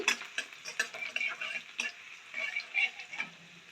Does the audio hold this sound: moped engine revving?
no